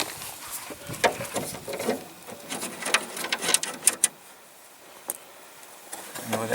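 Bolts undone on the faulty electric window mechanism of a Land Rover Discovery, heard as close-up metallic clicks, ratcheting taps and small rattles in irregular bursts, some sharp and distinct, with quieter handling between them.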